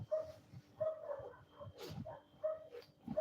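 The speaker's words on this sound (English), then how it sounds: "Hear the dogs them barking." Dogs barking outdoors on a street, several repeated barks and yips at moderate distance, fairly faint against low background noise.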